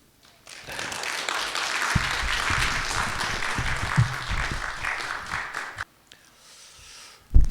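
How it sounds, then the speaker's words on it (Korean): A church congregation gives welcoming applause for their pastor: a full, steady wash of clapping that starts abruptly, holds for about five seconds, then stops, leaving near silence before a final thump. "우리 감사와 축복과 또 환영의 박수로 모시겠습니다"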